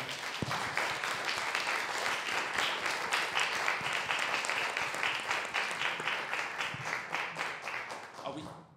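A literary audience in Montreal applauds a group of authors, dense and sustained clapping that holds evenly at full strength for several seconds before fading out abruptly at the end.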